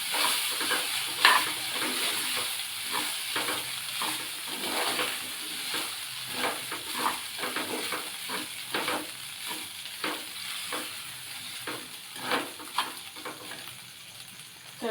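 Cooked rice for a curd rice dish being stir-fried in a pan, rhythmic scraping strokes of a spoon repeating throughout over a soft, constant sizzle, close and moderately quiet, with no talk.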